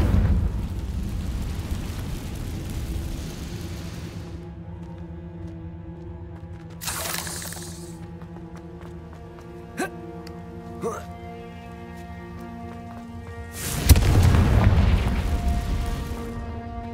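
Explosive spell blasts in the Hogwarts Legacy video game, with two loud booming bursts several seconds apart amid a busy layer of game effects and music.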